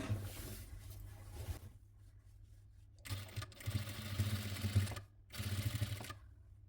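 A sewing machine stitches a nightie in three distinct runs, each a close, steady whir, separated by brief quiet pauses, with no talking.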